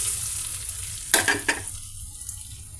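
Boiled, peeled potato pieces going into hot oil, giving a steady soft sizzle with two louder bursts of frying and stirring near the middle, close and alone with no talk.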